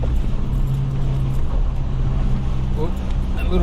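A four-wheel drive vehicle rumbling along a bumpy dirt track, a loud steady engine drone heard from inside with low jolting thumps, and voices talk over it.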